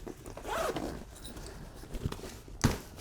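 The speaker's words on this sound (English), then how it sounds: "you also have this compartment right here that has a zipper" A zipper on the inner pouch of a tactical backpack is pulled open with a quick rasping run, followed by softer handling rustles and a sharper tug near the end, all close and fairly quiet.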